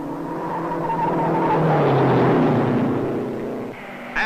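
Race cars at the 1955 Indianapolis 500 roar past at speed, a loud engine wail swelling and bending in pitch as it passes, then dropping away sharply near the end.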